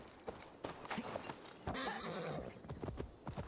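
A horse in Assassin's Creed Valhalla gives a loud whinny with clip-clopping hooves around it, several sharp hoof strikes and a drawn-out neigh in the middle, heard up close with no talking.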